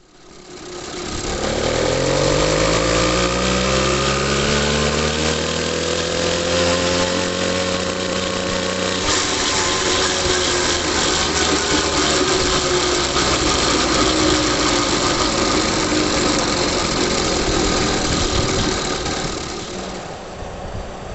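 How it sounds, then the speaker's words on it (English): An 80cc motorized bicycle engine with a CDH66 exhaust and muffler revs up and runs loudly and close for about twenty seconds, its buzzing two-stroke pitch rising and wavering before settling and fading at the end. "CDH66 with a muffler. Let's go."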